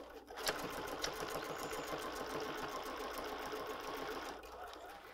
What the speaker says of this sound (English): So I'm gonna put my foot down and sew at a quarter of an inch on the bottom edge of the cuff.